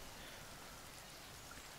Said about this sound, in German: Während es hier vor sich hin regnet.